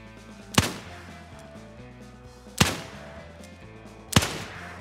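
Three loud, sharp gunshots spaced about two seconds apart in the Wild West Online game, each a crisp crack with a short tail over a faint steady background hum.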